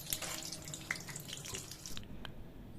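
Snake gourd pakoda frying in oil over a medium flame, a steady close crackling sizzle with scattered sharp pops, no voices.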